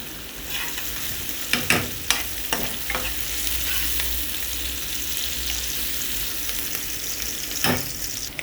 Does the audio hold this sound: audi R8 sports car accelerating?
no